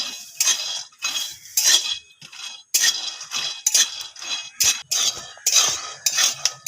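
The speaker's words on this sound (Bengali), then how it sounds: "এক বাটি বাদাম নিয়েছি বাদামটা হালকা করে ভেজে নেব" Peanuts dry-roasting in a dry kadai are stirred with a utensil, making rhythmic bursts of rattling, scraping clatter that start and stop repeatedly at close range, with no voices.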